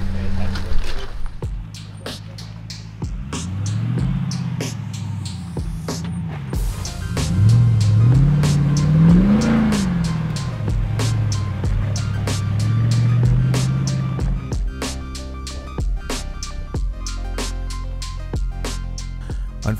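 An off-road vehicle's engine revs hard while stuck in deep spring snowmelt mud on a camping trip, its pitch surging and falling in repeated loud pulls with people talking over it.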